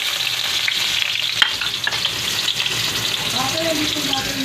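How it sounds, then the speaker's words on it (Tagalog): Garlic and onion sizzle and crackle in a hot pan for pancit miki bihon, with stirring scrapes and a brief clatter, close and continuous throughout. "ilagay na po natin yung garlic onion"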